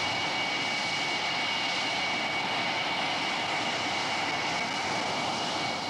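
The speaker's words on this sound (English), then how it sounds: "Jim Ludford makes a perfect touchdown and taxis in after the fastest flight he has ever made." An aircraft engine drones loud and steady as it taxis in after landing, a dense continuous roar with no break and no voices.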